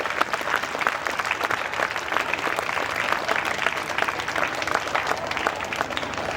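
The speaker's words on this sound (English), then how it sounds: "A big round of applause for our talented young performers who put an outstanding show." A school audience gives young performers of a junior one-act play dense, sustained applause, an even wash of many hands clapping at once without pause.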